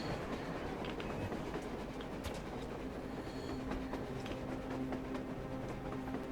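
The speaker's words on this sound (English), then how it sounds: "A train! A damn train on the surface!" A train rolls past on the surface in Metro Exodus, a steady rumbling clatter of rail cars with faint metallic squeals rising toward the end, moderately distant and heard alone.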